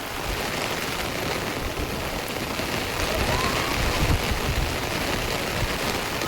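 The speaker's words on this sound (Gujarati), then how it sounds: "અત્યારે છે ને અમારે પાછો વરસાદ ચાલુ થઈ ગયો છે" Steady, dense hiss of heavy rain falling continuously on a village, loud and close, with no voices.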